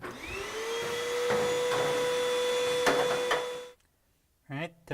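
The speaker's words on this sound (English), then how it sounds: "The dryer can use some vacuuming." A vacuum cleaner cleaning out a Whirlpool dryer drones steadily with a high motor whine, close and loud, then cuts off abruptly near the end; a brief voice follows.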